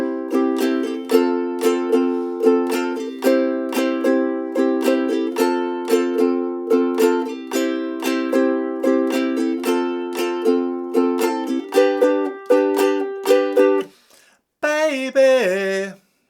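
A ukulele strums a steady chord progression with bright, rhythmic downstrokes, the chords changing every few beats before a brief pause and a final flourish.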